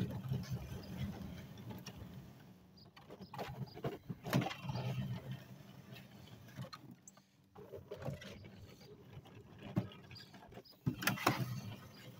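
A 2004 Hoover spin sweeper rolls over a driveway picking up grass clippings, making a fairly quiet mechanical whirring with rattles, creaks and uneven clattery surges.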